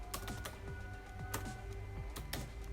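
Typing on a computer keyboard while entering HTML code, with a few clusters of sharp key clicks over a low steady hum, fairly faint and close, with no speech.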